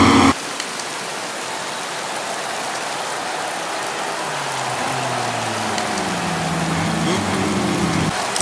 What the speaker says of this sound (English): it has been raining for a few hours now and it doesn't look like it'll stop anytime soon